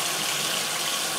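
Steady running tap water splashes continuously while a makeup brush is rinsed clean of soap in a sink, a soft even hiss with no pauses.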